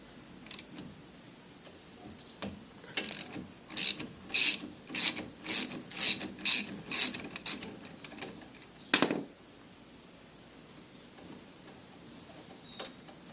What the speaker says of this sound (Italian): per svitare il bullone dietro.